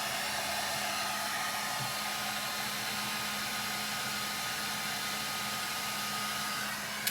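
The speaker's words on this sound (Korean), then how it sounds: "털어서 드라이기로 이렇게 말려주시고" A hair dryer blows steadily with a loud, constant whooshing hiss, close up and uninterrupted.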